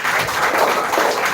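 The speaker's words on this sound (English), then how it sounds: "Please again give a huge round of applause for him." Audience applause at a spoken English grand finale event, a brief burst of dense, steady clapping from a crowd.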